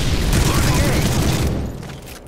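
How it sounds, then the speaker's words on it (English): Dense, fast gunfire in the Modern Warfare 3 Team Deathmatch match on Outpost, a loud continuous rattle of shots that fades near the end. "Man, that gun shoots pretty quick."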